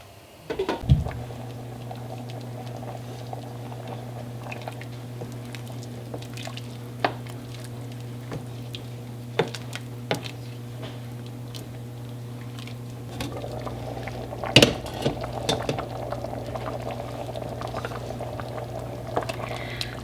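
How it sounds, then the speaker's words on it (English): Bean and bacon soup bubbling in a pot: a low steady boiling hum with scattered soft pops and drips, faint throughout, with a few sharper clinks and a slightly fuller bubbling toward the end. "I'm going to bring it up to a boil, then reduce it to a simmer, and we're going to let it simmer for 1 hour"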